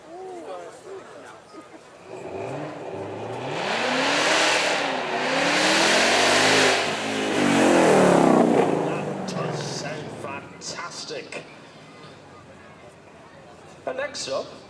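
A Ford Mustang Mach 1 V8 with 480 brake horsepower revs and accelerates past at a supercar weekend, its engine note rising and falling through gears over several seconds, loud and nearby, then fading to background chatter.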